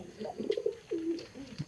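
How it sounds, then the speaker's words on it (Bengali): Pet pigeons coo softly, a few low throaty phrases close by, faint and without talk. "হ্যাঁ, ওই যে আমার কবুতরগুলো।"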